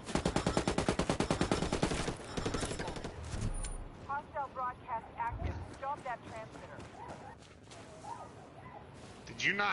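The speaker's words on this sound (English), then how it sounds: "Taking heavy fire." Rapid machine-gun bursts in the tactical shooter Ghost Recon Wildlands, a loud sustained volley at first, then scattered shots and short bursts trading back and forth, with players talking over the fight.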